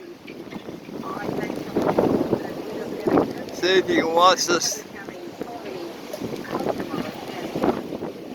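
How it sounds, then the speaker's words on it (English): Gusting wind roars and buffets the microphone while rain and water noise swirl around aboard a boat during Hurricane Dorian; a person talks briefly over the storm. "The rain is blowing."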